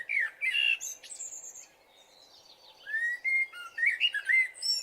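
A human voice imitates a small bird's chirping in front of a nest, producing close, bright whistled tweets in two bursts separated by a quieter pause, with no other talk.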